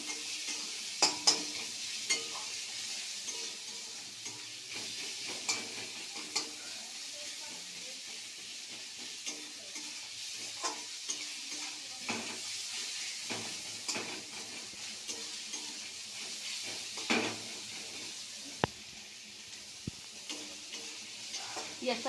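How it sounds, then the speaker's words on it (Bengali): Chopped onions with salt and turmeric fry in a pan while being stirred, a steady sizzling hiss with scattered utensil scrapes and taps throughout. "এবার পেঁয়াজটা ভাজা ভাজা করব।"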